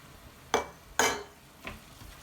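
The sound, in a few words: stock being added to the sofrito pan while stirring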